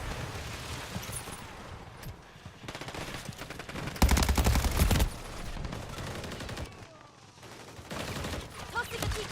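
Sustained automatic gunfire in the zombie mode of Call of Duty Modern Warfare, dense bursts and a heavy loud stretch midway, with game noise throughout.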